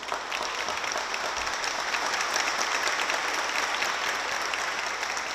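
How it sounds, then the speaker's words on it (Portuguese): Sustained applause from an audience at a formal solemn session awarding the Tiradentes Medal, a dense steady clapping that fills the room at even loudness throughout, with no voices on top. "eu peço para aplaudir Jonas Campos"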